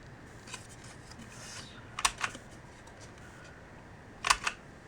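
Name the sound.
paper punch chomping pattern paper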